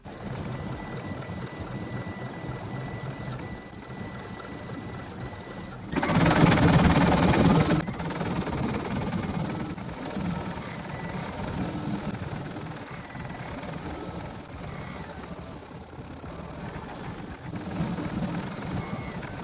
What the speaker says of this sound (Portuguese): agora sim eu vou dar sequência fazendo o bordado do rostinho